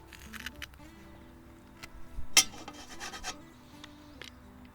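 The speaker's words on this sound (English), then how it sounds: "I just put the ginger straight through me garlic press" Fresh ginger is squeezed through a garlic press outdoors while camping, giving quiet rasping and squishing crunches with a sharp crack in the middle.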